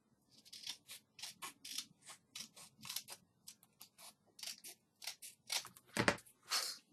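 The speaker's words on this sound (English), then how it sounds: "I'm going to use my scissors." Scissors snip repeatedly in quick, irregular bursts, crisp and close, with a slightly louder cut near the end.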